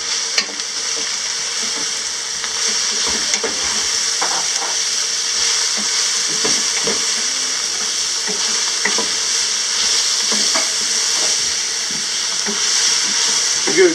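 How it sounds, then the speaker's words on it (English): Plenty of chopped onion frying in a pan for Indian yellow gravy, a loud, dense hiss of sizzling oil with frequent spoon scrapes and taps as it is stirred, steady throughout. "So now you can stir it a bit"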